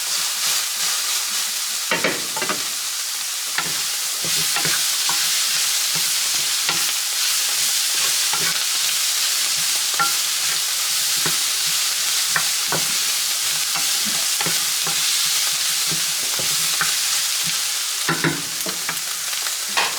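Lean ground beef cooking in a pan, a loud, steady sizzle broken by repeated scraping stirs of a utensil, close up and continuous with no one talking.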